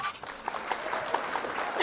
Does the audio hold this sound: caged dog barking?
no